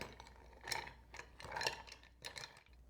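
A spoon stirs a pomegranate Shirley Temple mocktail in a glass, giving a few faint, scattered clinks and scrapes against the glass with quiet pauses between them.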